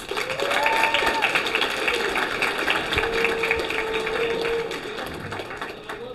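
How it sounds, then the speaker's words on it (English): Crowd applause for the head referees at a robotics competition, a steady sustained wash of clapping with some cheering and a faint tone underneath. "let's give a round of applause to our head refs"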